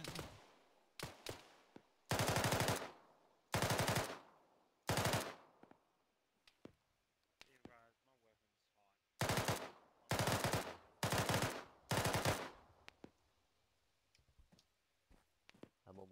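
Gunfire in a military shooter video game: short bursts of automatic fire, several clustered early and a run of four more later, with rapid cracks and quieter clicks and ticks in the gaps.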